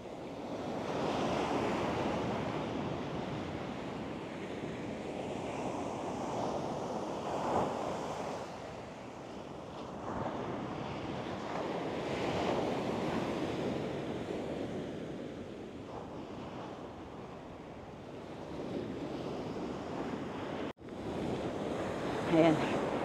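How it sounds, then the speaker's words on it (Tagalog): Ocean waves break on a Florida beach in a steady, rolling wash of surf with gentle swells, mixed with wind buffeting the microphone, moderately close. "Look at the wave. It's so, strong."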